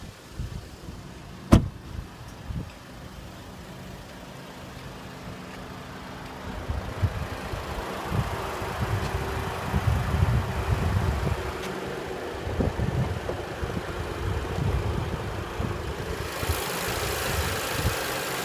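A 2015 Audi A3's 1.8-liter TFSI turbocharged four-cylinder engine idles at a steady low hum, with a sharp click near the start and the engine noise swelling a little louder midway through.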